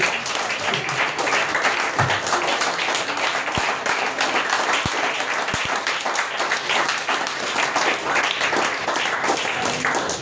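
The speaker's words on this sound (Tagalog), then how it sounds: "Yung palakpak mga kapatid na masarap ang almusal." A Sunday school congregation claps loudly and continuously, a dense close wash of hands with a few sharp knocks standing out.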